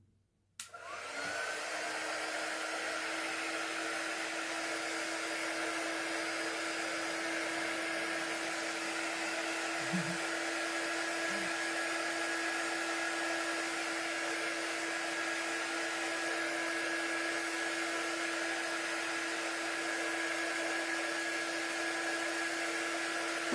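Hair dryer switched on and blowing steadily to dry something, a constant close, even whirring hum that runs unbroken for over twenty seconds after a sudden start, with no talk.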